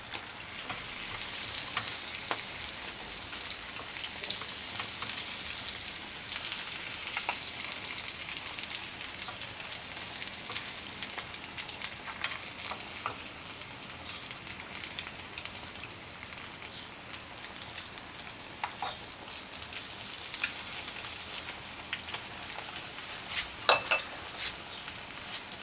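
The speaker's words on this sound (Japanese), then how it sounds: "ベーコンは反対側も焼きますね。" Bacon sizzles and crackles in a frying pan, a continuous close hiss with scattered sharp pops throughout, with no talking.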